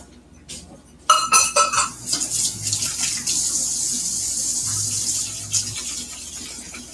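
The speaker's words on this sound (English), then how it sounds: "I'm going to wash my hands" Kitchen tap running while hands are washed, with a few clinks of dishes at the start and then a steady, fairly loud rush of water splashing for several seconds.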